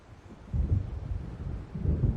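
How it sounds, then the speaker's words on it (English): Rolling thunder from an approaching storm in the video game Alan Wake, deep low rumbles that swell twice, distant and heavy over a quiet windy background. "It seems there's a storm coming."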